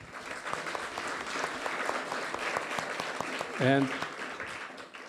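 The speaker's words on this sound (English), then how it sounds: "I want to thank the panelists by giving them an applause" An audience applauds panelists at a plenary meeting before a lunch break, a sustained crowd of clapping hands throughout, with a brief voice rising over it near the end.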